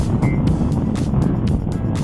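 A Piaggio X8 250ie scooter engine runs at high revs on the road, a steady loud drone buffeted by heavy wind rush, with faint periodic thumps from unbalanced wheels.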